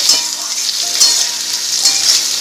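Tadka sizzling in a pan as it is stirred, a loud, bright, crackling hiss with small pulses where the spoon moves through the hot oil.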